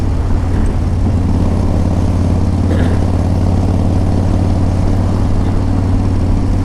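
A chopper motorcycle engine runs on a cold, snowy, icy road, a loud continuous low rumble held at steady revs throughout.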